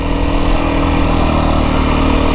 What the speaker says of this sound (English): But the dirt bike, the deep sandy stuff, it's not exactly the most fun to ride in